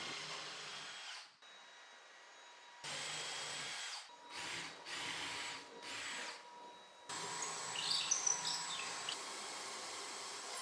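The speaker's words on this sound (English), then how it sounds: "I'm also going to be drilling a slightly oversized hole in the sub plywood underneath here" A power drill bores an oversized hole in sub plywood, with several bursts of high whining motor noise broken by short pauses, and a longer, louder run at the end.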